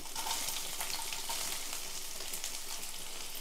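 Ginger and onion pieces fry in hot oil, giving a dense, even sizzle that holds steady throughout at moderate loudness.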